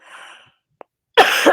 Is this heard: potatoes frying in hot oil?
no